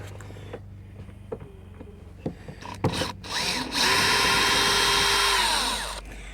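Power drill unscrewing screws from the sunblind of a Rover 200 BRM, a few short clicks and taps, then one loud sustained whirr of the motor running for a couple of seconds before winding down, close up.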